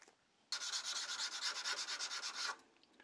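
A surface being sanded by hand with sandpaper: a close, scratchy rasp of about a dozen quick back-and-forth strokes in a steady rhythm, lasting two seconds and then stopping.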